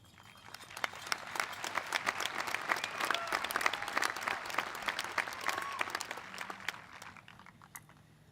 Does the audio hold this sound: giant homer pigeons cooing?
no